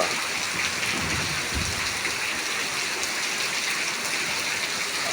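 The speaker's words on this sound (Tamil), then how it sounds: "மழை அடிச்சு ஊற்றுது பாருங்க" Heavy rain pours down in a dense, unbroken roar, steady and loud throughout with no voices.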